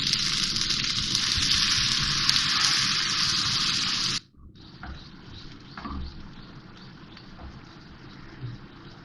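Water poured into a pan of frying potatoes for a home-style aloo sabzi, giving a loud, steady sizzle for about four seconds that cuts off abruptly, followed by quieter bubbling and faint clinks.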